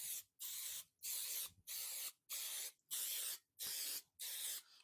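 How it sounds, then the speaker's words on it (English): Cooking oil spray can misting a mini loaf pan in eight even hissing bursts, each about half a second with short gaps, close and clear with no talking. "Let me grab my oil spray. That way we can spray it down and it'll help it pop out nice and easy."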